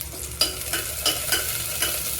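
Crushed garlic from one whole bulb fries in a spoonful of oil in a pressure cooker. It gives a steady soft sizzle broken by several rhythmic scraping stirs, close and fairly quiet.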